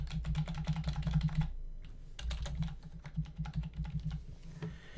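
Keys clatter rapidly on a computer keyboard as a test card number is typed into a checkout form, a steady run of close, crisp keystrokes with a short pause near the middle.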